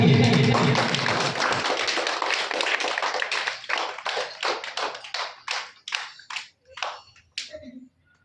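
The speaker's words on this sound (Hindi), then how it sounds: "इनके लिए जोरदार ताली होनी चाहिए।" Audience applause for a teacher at a Sunday study-circle class on Thana Road, Sisai: dense, loud clapping from many hands that gradually thins into scattered, separate claps before dying out.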